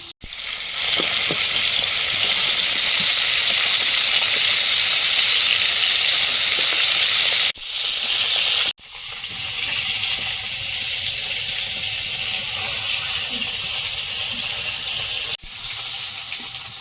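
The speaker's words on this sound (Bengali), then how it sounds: "বেগুনগুলো এই ধরে কড়াই ভেজে নেবো" Eggplant coated in salt and turmeric fries in hot oil in a wok, giving a loud, steady sizzle that runs close and continuous with two brief pauses and no talking.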